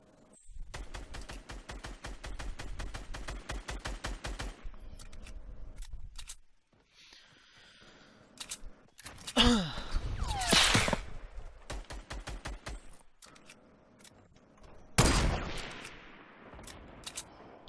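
Gunfire in Fortnite Battle Royale: dense bursts of rapid automatic shots at first, then a pause, sharper single reports and a loud swirling blast, all close and without voices.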